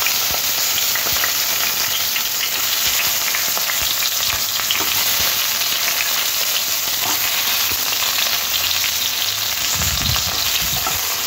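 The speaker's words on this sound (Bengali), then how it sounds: "এবারে এই ঝিঙেগুলো তেলের মধ্যে দিয়ে হালকা ভেজে নেব।" Diced young ridge gourd fries lightly in hot oil, a dense, steady sizzle that carries unbroken throughout, with a few soft stirring knocks near the end.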